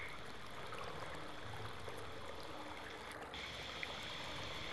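Steady stream of flowing water in a horror video game, a continuous soft hiss heard alone at low level with a brief click near the end.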